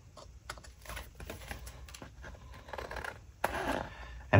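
Scissors snipping vellum to trim a small scrapbook pocket made from old planner dividers: quick irregular close cuts and paper rustles, ending in a louder burst of handling, no voices.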